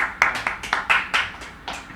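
A small audience at a poetry recitation giving a brief burst of scattered hand claps, about eight distinct sharp claps at an uneven rhythm, fairly close and clear.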